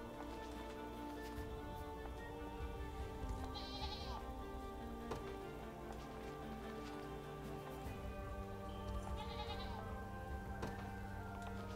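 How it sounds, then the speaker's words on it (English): Goats bleat twice in the fantasy video game Unicorn Overlord, short, moderately near calls set over steady game music and a soft rain-like background, with no talk. "Look at the goats."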